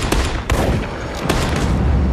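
Gunfire from the action film Bloodshot, loud rapid bursts of shots cracking in close succession over a dense rumbling mix, with no speech.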